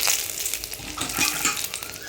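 Dried red chilli, nigella seeds and bay leaf hit hot oil in a pan for a Bengali fish curry, giving a close, steady crackling sizzle with no pause throughout.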